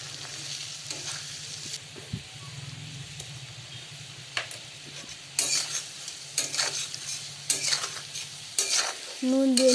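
Potato and chana dal curry stirred in a pan, a gentle sizzle beneath regular spatula scrapes that grow louder and busier in the second half, with a faint low hum early on.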